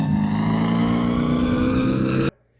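A 1970 Chevrolet Camaro V8 holds a loud, steady close-up rev for about two seconds before cutting off abruptly into silence.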